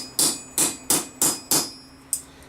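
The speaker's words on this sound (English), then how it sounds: "we're taking that just beyond the edge of the anvil there and just give it a couple of taps" A hammer gives sharp metallic taps to a steel medieval armor hinge resting just past the edge of an anvil. There are six distinct ringing strikes at a steady pace, five close together and a final one after a short pause, loud and close with no talk.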